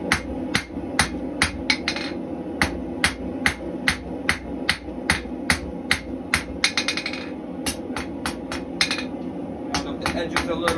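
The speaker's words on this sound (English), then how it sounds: "I'm just flattening this out with my rounded edge of my hammer" A rounded-edge hammer strikes steel rebar on an anvil during hand forging of a heavy-duty fire poker, ringing in a steady series of sharp metallic blows, some in quick pairs, close and loud over faint background noise.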